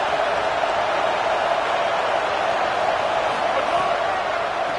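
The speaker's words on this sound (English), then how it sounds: "Listen to the crowd energy here in the early going." A football video game's stadium crowd gives off a dense, steady roar of cheering at constant loudness for several seconds, with no distinct individual voices standing out.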